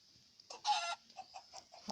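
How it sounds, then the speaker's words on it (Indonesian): A Minecraft chicken clucking in the video game, a fairly quiet burst of a squawk followed by a run of short clucks, close and alone against a faint steady background tone. "oh itu ada ayam lagi"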